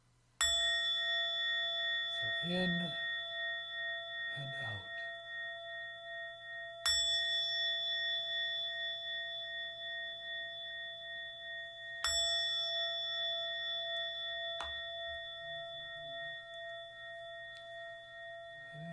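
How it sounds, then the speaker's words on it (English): A bell rings three times, each strike clear and bright, its tone lingering and slowly fading; a calm voice speaks briefly between strikes. "And we'll start with 3 rings of the bell."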